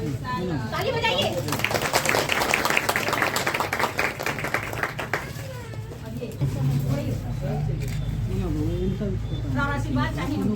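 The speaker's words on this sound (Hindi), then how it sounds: "ताली बजाइए" A crowd at an office inauguration claps loudly in a dense burst, with chatter and voices mixed in and steady background hum around the gathering.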